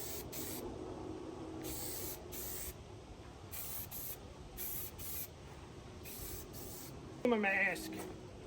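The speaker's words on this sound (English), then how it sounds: "it's time to give this first coat of primer." Aerosol primer sprayed as a first coat onto Yamaha Jog scooter parts, with repeated short hissing bursts of roughly half a second in steady rhythm, fairly close, followed by a brief louder clatter near the end.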